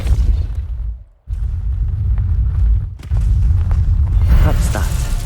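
A Depulso repelling spell blasting in Hogwarts Legacy, heavy booming rumbles that cut out briefly twice and surge back, with a brighter crackling burst near the end.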